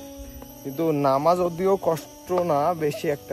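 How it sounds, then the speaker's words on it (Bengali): Crickets trill steadily along a Sitakunda hill trail, a thin continuous chirping beneath someone talking close by. "এখানে আমরা যাওয়ার সময় অনেক সুন্দর ঝিঝি পোকার ডাক শুনতেছি"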